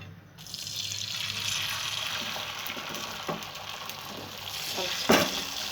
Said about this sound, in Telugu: ఇందాక బీట్ చేసుకునే ఎగ్ మిశ్రమం అనేది మనం దీంట్లో వేసేద్దాం.